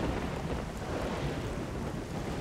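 Steady heavy rain pours throughout a stormy scene in the video game Risen 2, with a constant, dense hiss and a low rumbling undertone, close and loud with no speech.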